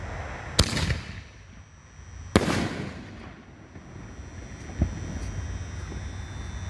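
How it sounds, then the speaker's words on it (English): Two Raccoon Nishiki Blast 5-inch canister shells burst outdoors with sharp booming cracks, each followed by a rushing crackle as the willow effect falls, then a smaller distant pop, with wind noise throughout. "All right, Nishiki Blast by Raccoon Fireworks. This is Nishiki Willow with blue."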